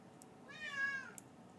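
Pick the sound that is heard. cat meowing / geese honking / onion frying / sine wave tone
cat meowing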